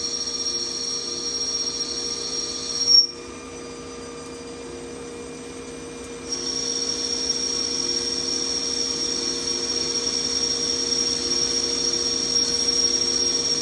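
A CNC lathe cuts threads on a rifle barrel tenon while chambering and fitting the barrel to an action, giving a steady high whine and hum with a brief clunk partway through and a brighter cutting tone afterward.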